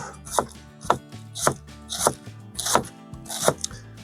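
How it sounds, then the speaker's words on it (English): A knife shredding a halved cabbage into thin slices on a cutting board for homemade sauerkraut, seven crisp evenly spaced chops about half a second apart, close and clear with no talking. "And then just start shredding from the tip."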